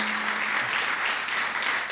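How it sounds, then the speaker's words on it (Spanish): A church congregation claps together in steady, continuous applause, a dense and fairly loud wash of hands filling the room briefly. "Denle un aplauso al Señor, hermanos."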